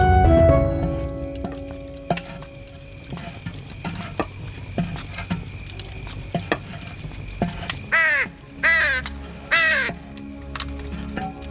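A crow caws loudly several times in a row near the end. Each call is harsh and ringing, sounding over a background of scattered ticks and patters.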